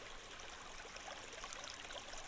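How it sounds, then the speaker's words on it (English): Steady flowing water from a pool in the video game Minetest, a continuous soft wash of trickling and rushing water heard alone at low level. "I don't want to be able to hear the pool down here."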